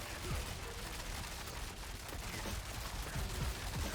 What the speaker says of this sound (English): So let's say I cast barrage by itself. You see how fast barrage is casting?